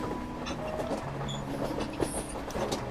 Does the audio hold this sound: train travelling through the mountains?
yes